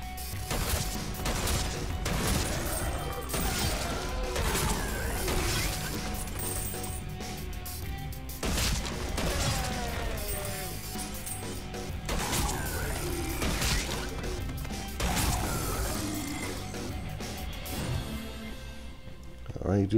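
Shotgun blasts from a zombie defense video game sound in repeated bursts amid dense, busy game noise and music, while a voice talks over them throughout.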